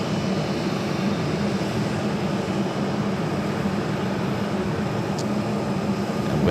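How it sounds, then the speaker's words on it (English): An American Airlines Dreamliner jet, Flight 882 to Dallas-Fort Worth, readies for takeoff at Phoenix Sky Harbor airport, giving a steady, broad engine roar heard from a distance with no change in level. "Here we're looking at the American Dreamliner going to be taking off to Dallas-Fort Worth"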